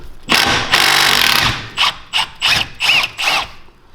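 An Allen key ratchets a brake caliper bolt loose on an Argo 8x8 Magnum amphibious vehicle during a rebuild, giving a close series of clicking bursts, one long stretch followed by four short separate spurts.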